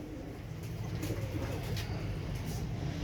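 Jumbo-size pigeons cooing softly in a loft, low repeated coos over a steady background hum, fairly faint and without talk.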